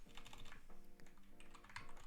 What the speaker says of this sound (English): And if I start typing,